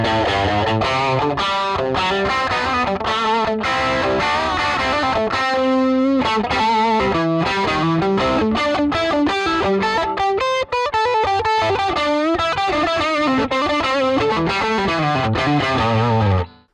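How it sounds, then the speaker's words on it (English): Electric guitar run through a Bluesbreaker pedal into a Tube Screamer overdrive, playing a continuous loud, gritty riff with chords and single notes throughout, no speech. "let's hear that Bluesbreaker into the Tube Screamer combo"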